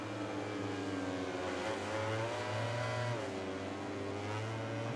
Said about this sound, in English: I can hear the bikes coming up behind me